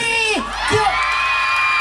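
Festival crowd in San Marcelino, Zambales cheering and whooping loudly, with high rising yells and shouts layered over a continuous roar of many voices close by.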